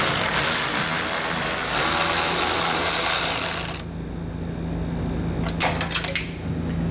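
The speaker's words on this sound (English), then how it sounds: "We'll take those out using a T15 Torx bit." A power driver fitted with a T15 Torx bit backs out taillight screws on a vehicle: a loud, steady motor whir for about four seconds, then quieter handling with a few sharp clicks and rattles near the end.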